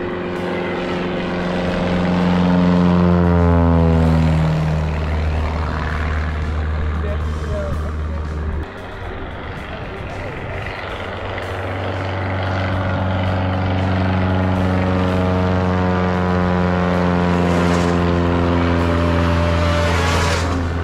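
A propeller airplane buzzing low overhead in an Alaskan winter setting, its droning engine tone rising and falling as it passes near and loud, with people talking and shouting over it.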